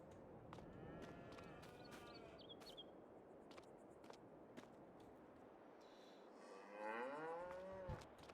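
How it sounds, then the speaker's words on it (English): Cattle moo in a farming simulator game, with several drawn-out lowing calls, one louder and closer near the end, over a quiet farmyard background with faint footsteps. "That'll be the cows."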